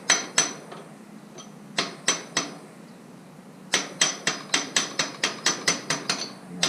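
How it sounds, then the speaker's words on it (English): A brass drift is struck against a Honda Africa Twin motorcycle axle: repeated sharp metallic hammer blows, first spaced and irregular, then a rapid steady run of evenly timed strikes, loud and close. "Here's a nice brass strip."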